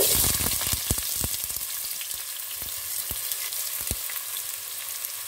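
Hot oil sizzling and crackling in a pan, a close steady hiss broken by several sharp pops and spatters spread irregularly across the few seconds, with no talk.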